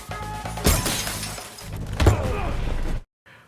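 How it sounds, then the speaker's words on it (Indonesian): Car window glass shatters loudly twice in quick succession, crashing and tinkling, before the sound cuts off abruptly. "ia pun memecahkan kaca mobilnya"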